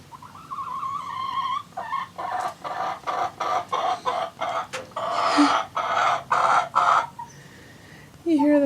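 Backyard chickens cluck and chatter in a series of short, close, moderately loud bursts, ending with a rising squawk.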